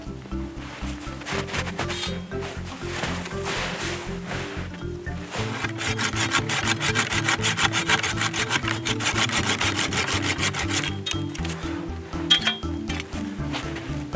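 A hand saw cutting through apple tree branches in steady back-and-forth strokes, growing faster and louder midway, with a faint clink near the end.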